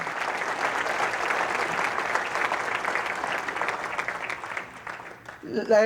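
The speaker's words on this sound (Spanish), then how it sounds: "Alguien dele fuerte el aplauso al Cristo de la gloria" Loud, sustained applause from a church congregation fills the space for several seconds, then fades near the end.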